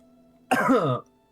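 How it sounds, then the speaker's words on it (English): A single short, throaty cough, close and fairly loud, against an otherwise quiet background with a faint hum. "That cough"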